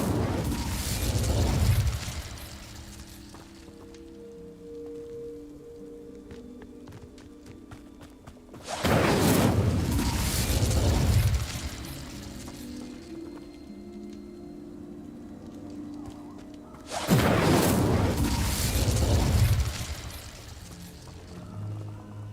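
Three fiery Incendio spell blasts from Hogwarts Legacy burst out at regular intervals, each a loud whooshing roar that fades into quieter ambient game sound before the next.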